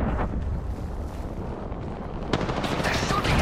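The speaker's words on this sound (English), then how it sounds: "They're shooting at me!" Gunfire in Apex Legends, Season 8 3v3 mode: a steady wash of shots and noise with a sharper burst near the end, continuous and fairly loud.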